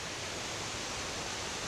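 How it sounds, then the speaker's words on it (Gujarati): Rainwater after a downpour rushing down the hill steps at Pavagadh, a constant broad roaring wash of flowing water, steady and unbroken throughout. "ડુંગરના પગથિયા પર કઈ રીતે પાણીનો ધોધ વહી રહ્યો છે"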